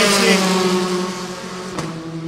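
A Formula 4 race car in the 2017 SEA Championship drones past at speed on the track, its engine note steady and then shifting as it passes. A commentator talks over it.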